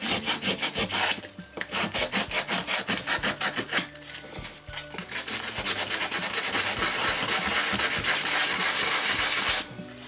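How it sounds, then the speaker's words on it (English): Rough plywood on a small miniature furniture piece being hand-sanded, close, loud rhythmic back-and-forth rasping strokes that turn into one long continuous scrub before stopping near the end. "I'm just going to sand over the entire piece because this plywood is rather rough"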